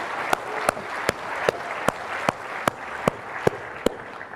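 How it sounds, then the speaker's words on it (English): Applause for the participants and judges at an enterprise AI showdown event rises as a soft clapping bed, cut through by a row of evenly spaced sharp claps from one person close by, about ten in all. "Please, let's give a big round of applause for all the participants and the judges."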